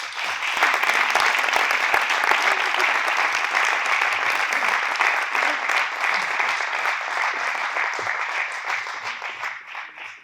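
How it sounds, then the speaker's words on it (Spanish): Warm, sustained applause from a crowd at a prize-giving ceremony, dense and even for about ten seconds before thinning slightly at the close, with no voices over it. "Ells i elles li recibim dant un fort aplauso."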